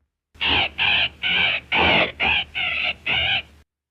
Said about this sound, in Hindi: ये तोता क्यों चीखें मार रहा है?